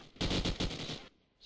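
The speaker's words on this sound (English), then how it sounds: "So they and Terry open up frags there onto Queef and Salamander, and Kemsy with the AK onto Salamander" A short burst of rapid AK rifle fire in Call of Duty 4, several fast close shots lasting about a second and then cutting off.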